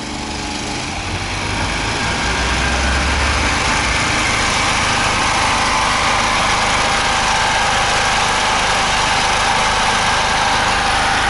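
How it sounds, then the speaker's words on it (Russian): A diesel or petrol generator runs loudly outdoors beside a sports club, giving a steady, dense engine drone that holds unbroken for the whole stretch. "Шум от него стоит очень сильный на улице"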